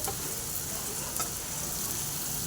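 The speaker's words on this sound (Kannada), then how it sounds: "ಅಚ್ಚು ಖಾರದ ಪುಡಿ ಹಾಕಿ ಚೆನ್ನಾಗಿ ಫ್ರೈ ಮಾಡ್ಕೊತಾ ಇದ್ದೀನಿ" Spices and chilli powder fry in a pan for an egg paratha masala, a steady close sizzle with a few light scraping stirs, no voices.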